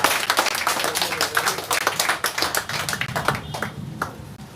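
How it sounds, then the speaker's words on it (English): Audience applause at a press conference: dense, fairly loud clapping that continues steadily for a few seconds, then thins out near the end. "Come on, a big round of applause"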